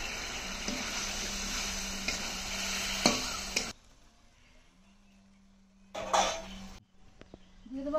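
Meat tipped into hot spices and oil in a pan, frying with a loud sizzle and stirring for a few seconds, then quieter low sizzling, a brief burst of stirring or scraping, then quiet again.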